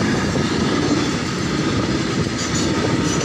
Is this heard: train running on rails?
yes